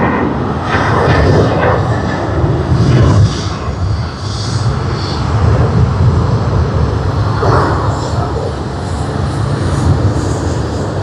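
A Hong Kong Airlines jet in special livery rumbles steadily at Sydney Airport, a broad continuous engine roar with faint swelling hiss, heard at moderate distance with no talk.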